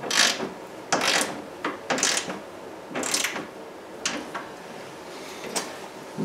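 Ratcheting and mechanical clicking while a bolt is tightened on the rear hatch of a third-generation Chevrolet Camaro, coming in several separate short bursts close by, with no talking.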